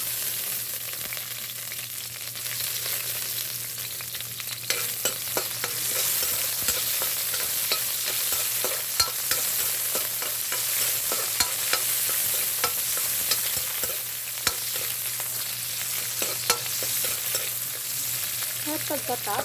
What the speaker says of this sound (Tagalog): ilagay natin ating onion o bombay.